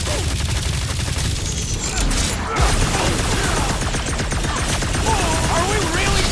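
Sustained gunfire in the Guardians of the Galaxy game, a steady rapid rattle of shots under a noisy combat mix with voices talking over it throughout.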